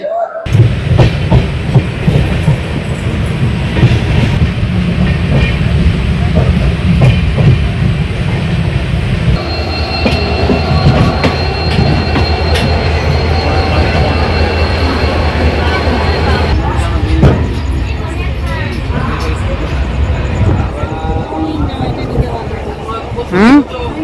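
The 22201 Sealdah Puri Duronto Express rolls along the rails, heard from inside an air-conditioned coach as a loud, steady rumble with continuous wheel clatter and hum that shifts in tone partway through.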